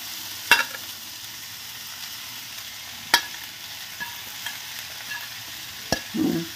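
Flattened rice (chira) is stirred and fried in a pan, giving a low steady sizzle punctuated by a few sharp scrapes and knocks of the utensil, close by with no talking.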